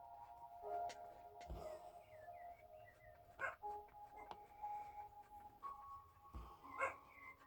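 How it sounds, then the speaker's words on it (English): A dog barks several times in sharp, separate bursts spread across the stretch, mixed with yips and whimpers, in a quiet indoor room where someone is cross-stitching. "She inevitably barks."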